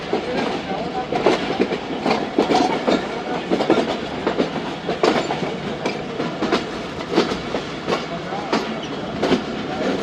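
Jaffar Express train running between Peshawar Cantt and Lahore, with a steady rumble and repeated clickety-clack wheel beats over rail joints, heard from on board, continuous and moderately loud throughout.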